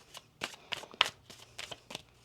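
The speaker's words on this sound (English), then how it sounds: "One more shuffle." A deck of tarot cards being shuffled by hand, a series of crisp riffling bursts in an uneven rhythm, close and fairly quiet with no talking.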